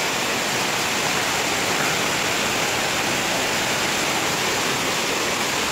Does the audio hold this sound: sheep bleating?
no